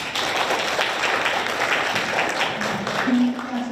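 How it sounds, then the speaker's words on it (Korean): A student forum audience at a university innovation event gives a sustained round of applause, a dense even wash of clapping with a brief hum toward the end. "네, 큰 박수 부탁드리고요."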